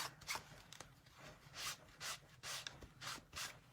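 Cloth or chamois rubbed over the inked surface of a pink Fresh Stamp Press, giving a series of short, soft scrubbing strokes at close range, quiet and steady with no talk.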